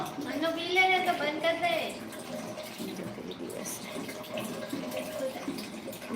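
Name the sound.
water running from a tap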